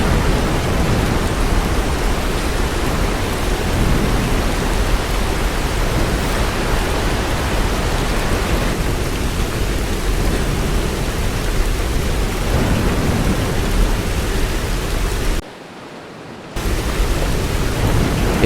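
A tropical storm, Typhoon Trami, lashing southern China and Vietnam: steady, dense roar of heavy rain with low rumbling thunder, continuous and loud, broken by a brief drop-out near the end.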